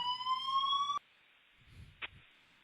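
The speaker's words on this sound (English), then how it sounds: "Alarm went off." A loud electronic alarm tone blares for about a second and then cuts off, leaving quiet room tone with a brief faint knock afterward.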